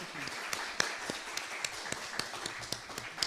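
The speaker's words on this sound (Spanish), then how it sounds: "Le vamos a dar un aplauso al doctor Mario." An audience claps for a speaker at a business talk on family enterprises and regional development: scattered, fairly quiet claps with distinct individual hand strikes standing out over a soft murmur.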